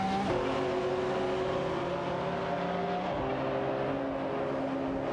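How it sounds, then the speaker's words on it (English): Racing cars in a virtual AI race accelerate with a continuous engine whine whose pitch rises and shifts as gears change, a loud, steady drone without any talking. "Neotexum and Sidriq are putting the pedal to the metal as they lead the race"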